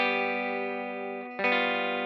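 Guitar strums a chord progression in a beginner lesson. One chord sustains, dips briefly, and then a fresh strum lands sharply on the next chord, which rings on without any voices.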